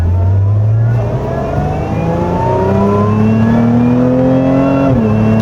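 A 2025 Lotus Emira V6 with automatic transmission revs hard and climbs steadily in pitch toward its redline, loud and close, before a brief drop at a gear change.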